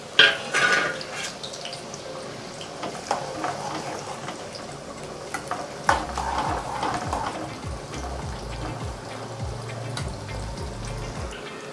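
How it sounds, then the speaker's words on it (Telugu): Chopped onions drop into hot oil for tempering, making a soft sizzle and crackle with a few utensil knocks and clatters. A low rumbling hum sets in partway through, and no one speaks. "బాగా తాలింపుకి ఉల్లిగడ్డ వేసిన."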